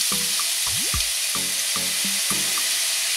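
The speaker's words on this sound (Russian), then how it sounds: "На оливковом масле обжариваем репчатый лук мелко порезанный" Finely chopped onion frying in olive oil in a skillet, a steady broadband sizzle running throughout, with a few short clinks of a utensil against the pan.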